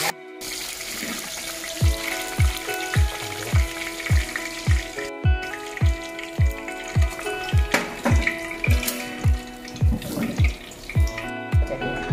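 Deep frying in hot oil while preparing poon choy, with a loud continuous sizzle up close and a regular series of dull thumps roughly every half second throughout, and no talking.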